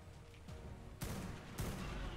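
Two sharp gunshots fired at a flying dragon in Ark Primal Fear crack out about half a second apart over a steady background rumble, each a sudden broadband blast with a short ringing decay.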